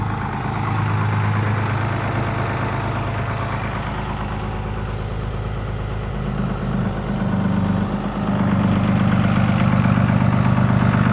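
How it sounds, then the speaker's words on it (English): A 6.2L Cummins diesel engine runs with its exhaust brake engaged, a loud, steady low-pitched rumbling drone from the exhaust that deepens and grows louder toward the end, with no talk. "I'll go ahead and run my exhaust brake for you so you can hear how that sounds out the exhaust"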